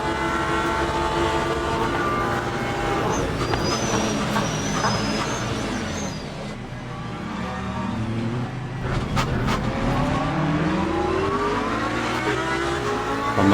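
Several race car engines roar together at a race start in the sim racing game Le Mans Ultimate, a dense, loud, continuous field of revving with rising and shifting pitch, shared by many cars close by throughout.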